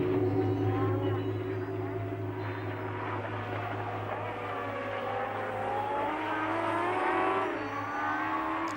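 1973 Formula One race cars at speed, a continuous loud engine roar with rising and falling pitch as cars pass, a dense sustained mechanical drone.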